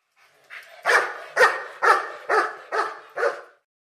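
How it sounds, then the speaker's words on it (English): A dog barks six times in a quick, even rhythm, each bark sharp and close, with silence before and after. "Dog."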